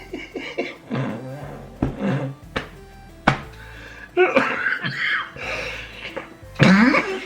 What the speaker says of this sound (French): Je vous ai dit quand je rigole je tousse